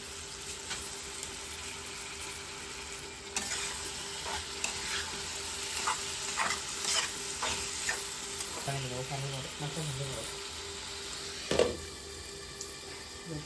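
Spices fry in oil in a pan for a shol fish curry, giving a continuous close sizzle broken by several stirring scrapes and a louder clatter near the end, with no voice.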